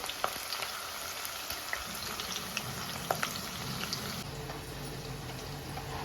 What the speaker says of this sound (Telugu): పక్క స్టవ్ మీద ఆయిల్ పెట్టానండి గుడ్లు వేపడానికి